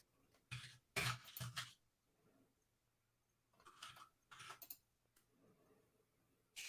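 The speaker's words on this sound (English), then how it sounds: "While you were typing" Quiet bursts of computer keyboard typing come in two clusters of rapid keystrokes with pauses between, heard close and alone with no talk over them.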